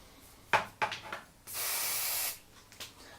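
An aerosol can sprays generously between the laminations of a Marantz MR 250 mains transformer in a room, giving one steady hiss of about a second after a few short bursts and clicks.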